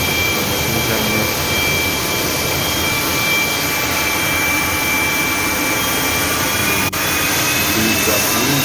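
A gas turbine runs steadily on a practical test setup, giving a loud continuous roar with a high sustained whine up close and one brief dip near the end.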